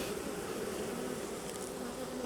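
A continuous, dense buzz of honeybees surrounds an open hive being worked frame by frame, loud and unbroken with no talking.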